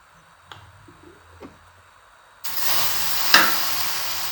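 Ghee poured into a hot pan bursts into a loud sizzle and keeps hissing steadily, after a few quiet kitchen clinks and taps, with no talking.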